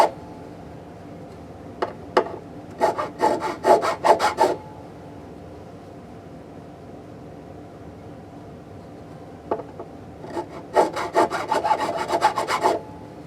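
Sharp fret ends on a Gretsch Electromatic guitar are filed down with quick, rasping back-and-forth strokes in two close bursts, separated by a quiet pause, with a few isolated scrapes in between.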